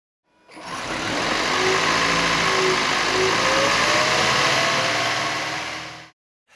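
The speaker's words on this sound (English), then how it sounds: "The combustion engine must be started in order to test the generator." A hybrid car's combustion engine starts up, then settles into a steady idle that keeps running before cutting off abruptly near the end, close and fairly loud.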